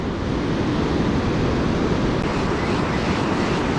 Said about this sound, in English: I'm a lot closer to the crashing waves now